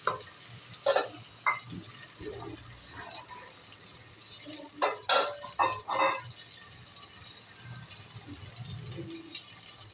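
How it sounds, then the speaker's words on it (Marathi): Spices and large chopped tomato roasting in a pan for masala bhat, with intermittent scraping stir strokes clustered in bursts over a steady low sizzle, fairly close and moderately quiet. "हे सगळे मसाले मस्त भाजून घ्यायचे"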